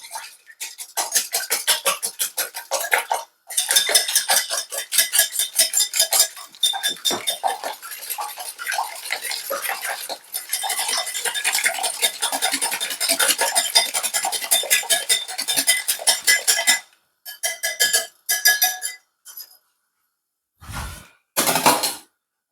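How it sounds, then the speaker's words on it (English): A whisk beats eggs in a bowl with rapid, rhythmic metallic clinking, close and steady for about seventeen seconds with brief pauses, then a few short final bursts and taps, no talking. "I'm going to whisk them together. So I'm going to give it a bit of whisk."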